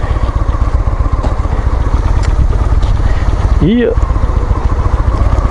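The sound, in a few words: Honda Shadow motorcycle engine running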